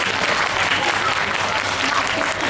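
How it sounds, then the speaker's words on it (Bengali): An audience in a concert hall gives a harmonium player a steady round of applause. The dense clapping holds at an even level for the whole stretch, with no voices above it. "তার জন্য আমি আর একবার হাততালি চাইবো আপনাদের কাছে"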